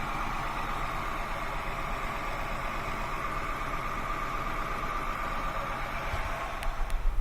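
A Honda Accord engine idling rough with a misfire, a steady low rumble with faint irregular stumbling and a few louder bumps near the end, heard without voices.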